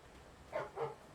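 Dog in the video game Alan Wake giving two quick barks, fairly faint and slightly distant, close together over a quiet background.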